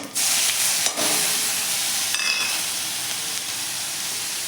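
Mustard seeds, cumin, asafoetida and fresh spice paste hitting hot oil in a kadhai on a gas stove for a cluster bean curry, a loud continuous sizzle and hiss with a few crackles.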